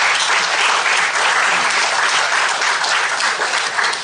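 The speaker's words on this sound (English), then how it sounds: "A fresh round of applause," Audience applause at a symposium on elder psychological wellbeing, a thick, sustained roar of many people clapping, loud and even from start to finish with no talk.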